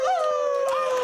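A voice imitates a wolf howl, one sustained rising and falling wail that is loud and close and lasts about a second.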